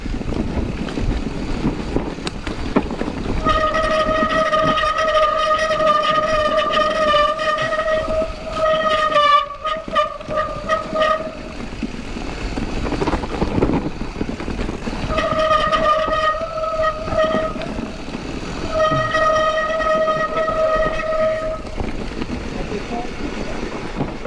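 A mountain bike's front brake squeals loudly in long, piercing stretches on an Alpine trail, stopping and starting three times, with voices talking in between.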